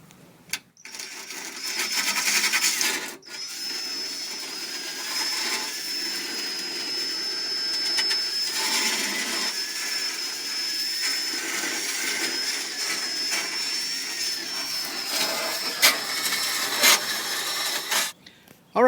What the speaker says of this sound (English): Now we're going to use a 50 grit and sand on the rust.